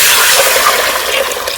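Water pours steadily into a pot of bananas in a village kitchen, a dense, loud rushing splash that lasts without a break.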